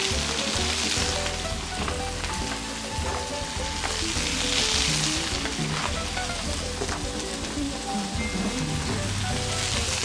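Celery and carrots fry in a hot pan with a steady, dense sizzle that holds loud and even throughout, with faint clinks and stirring beneath, no voices.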